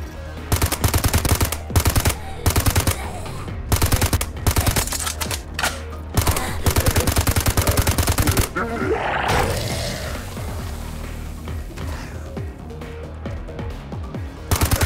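Rapid automatic gunfire from the Zombie State shooter game played on a phone, dense loud bursts repeating in volleys with short gaps, followed by a quieter stretch of game ambience before shooting resumes.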